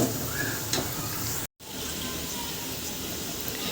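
Onions frying in hot oil for biryani, a steady, close sizzle that fills the whole stretch with one brief dropout midway, and no voices over it.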